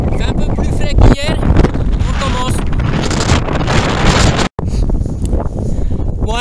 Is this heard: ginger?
no